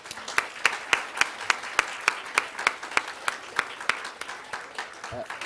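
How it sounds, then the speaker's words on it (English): A seminar audience applauds a business Q&A panel, with soft crowd clapping under one loud, regular clap repeating about three times a second close by, tapering off near the end. "Can we give them a massive round of applause?"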